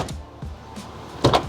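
A van door is pushed shut after a door safety stop is installed, giving a few soft bumps and then one firm, close latching thud near the end.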